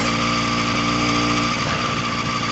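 A vehicle engine running loud and close on a slow night ride, its drone steady at first, then shifting in pitch as the throttle is tapped, with no talking.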